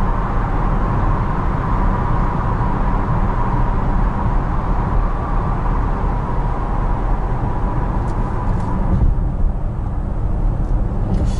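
A Range Rover Velar D300 R-Dynamic HSE cruising on the road, a steady broadband rush of road and wind noise with a low engine drone, continuous and even throughout without talk.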